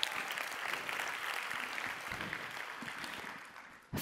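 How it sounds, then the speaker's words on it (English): A conference audience at a franchise business session applauds, a broad, even wash of clapping that runs steadily for several seconds before thinning toward the end. "I think that deserves a round of applause."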